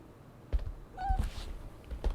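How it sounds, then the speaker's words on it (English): A house cat meows near a computer desk, one clear tonal meow in the middle with a couple of fainter vocal sounds around it, fairly close over low room noise. "go away, kitty."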